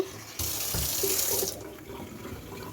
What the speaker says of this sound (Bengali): এই যে এখানে আমি চাল ডাল ধুয়ে রাখছি